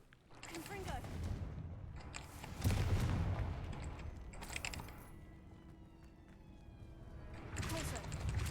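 Hogwarts Legacy's Confringo fire spell goes off in a few explosive, crackling bursts. They sit over a busy game soundscape, with some faint voice in the background.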